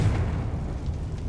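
A Confringo blasting spell in Hogwarts Legacy bursts as a heavy, low explosion rumbling steadily for a moment, loud and close.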